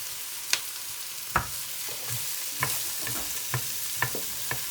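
Vegetables stir-frying in a pan, a steady soft sizzle broken by occasional sharp clicks and knocks of stirring, no talking.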